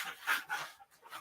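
Dogs pant in quick, breathy rhythm close by, with a faint whimpering edge, no talking over it.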